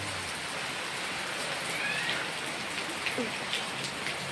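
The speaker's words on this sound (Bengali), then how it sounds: "দেখো বৃষ্টিও নেমে পড়ছে।" Rain falls under dark clouds, a steady close hiss of drops spreading evenly across the whole moment with a few faint chirps poking through.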